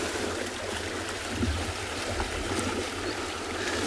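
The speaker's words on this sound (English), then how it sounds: "listen to the splashing around and take the sounds in, because they really are noisy when they swim" Animals swim and splash in water on a South African safari, a steady wash of churning, sloshing water at moderate distance with no voices over it.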